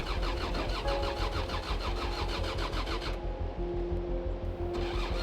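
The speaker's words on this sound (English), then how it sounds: "the engine roared to life on the second attempt" A vehicle engine cranks with a rapid rhythmic whir, catches and starts on the second attempt after failing to start, then settles into a low steady idle on a cold morning.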